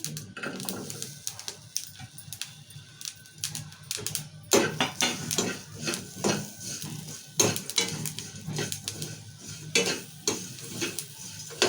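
Sesame seeds, peanuts and coconut pieces dry-roasting in a pan, with faint crackling and popping and repeated scraping strokes of a spatula against the metal, fairly close and without talk.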